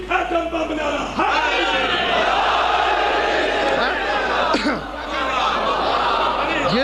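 A crowd at a majlis chants religious slogans together in loud, voiced bursts with short pauses between calls. A leader's voice prompts the responses, and scattered chatter and laughter run through the gathering.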